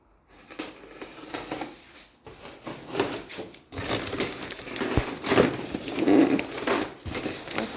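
Packaging being torn open and crinkled while unboxing an Indesit DSIE 2B10 built-in dishwasher, with close, busy rustling, crackling and scraping bursts that come and go, louder toward the end.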